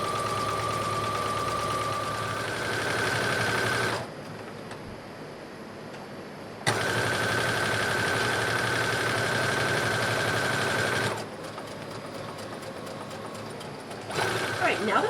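A sewing machine straight-stitches down the side seam of a pioneer dress, its motor humming and ticking steadily in two long runs with short pauses for adjusting, a faint voice present in the background.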